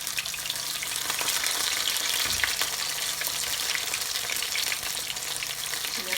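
Green tomato slices fry in a skillet with a steady, dense sizzle that stays fairly loud and even throughout, with no voices over it.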